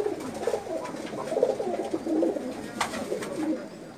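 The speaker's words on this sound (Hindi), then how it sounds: "ये कबूतर था जो जिसका हमने शौक कराया" Pakistani pigeons on a rooftop loft in Jeddah coo in soft, repeated throaty rolls, several birds overlapping at close range with faint background noise and no talking.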